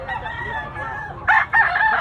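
A brown hennie gamefowl rooster of Raptor bloodline, big size with white legs, crows loudly and close by in two strong bursts, the second drawn out, following a steady background hum.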